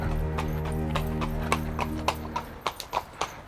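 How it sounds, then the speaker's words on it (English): Horse hooves clip-clopping on a street in an old part of London, starting faint and then growing louder as a run of sharp, evenly spaced hoof strikes approaches, heard over low traffic hum with no talking. "there's a horse coming."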